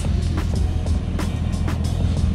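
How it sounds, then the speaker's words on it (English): A truck engine idles steadily with a dense low rumble, loud and close, a tire inflator connected while tires are aired up to about 39 PSI; a few brief clicks and knocks sit over the continuous drone. "I'm gonna go ahead and turn the truck off."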